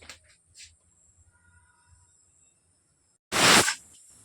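A pressure cooker cooking pulao lets out one loud hissing whistle burst near the end, after a quiet stretch with faint kitchen clatter.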